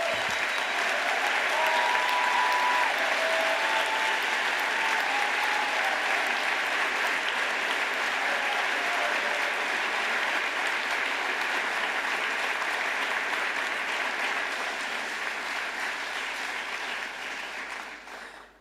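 A sustained wave of audience applause at the Solar Decathlon award ceremony, steady and full for many seconds before tapering off at the end.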